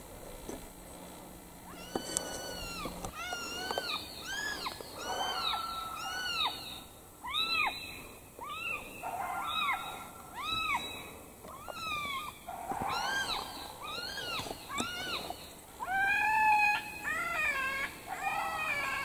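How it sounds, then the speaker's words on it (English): Electronic predator call of a distressed kitten from a FoxPro Inferno caller: rapid, high-pitched mewing cries repeated over and over, loud and insistent, with short gaps between bursts. "We'll start off with a kitten in distress."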